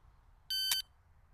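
A single sustained electronic beep about a third of a second long, loud and clear over quiet room tone, marks the start of a dry-fire pistol drill.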